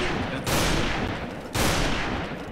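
Loud, dense bursts of automatic gunfire in the online shooter Special Force 2 during a clan match, two sustained volleys back to back with a short break between, up close and dominant.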